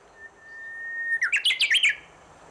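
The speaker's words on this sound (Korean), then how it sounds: "무리 생활을 하지 않는 휘파람새는 주로 나무 위에서 생활하지만 높은 꼭대기에는 앉지 않는다" A Korean bush warbler calls from island trees: a long, thin sustained whistle followed by a quick run of about six bright, warbling notes, clear and fairly close against a quiet background.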